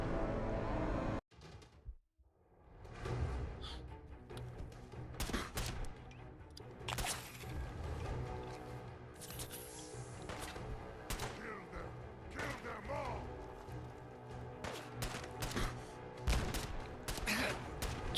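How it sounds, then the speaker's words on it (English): Enemy gunfire in Fallout 4, bursts of shots and thuds scattered through a dense, loud game mix, with a brief drop to near silence early on before the shooting and action resume. "who the hell is shooting me"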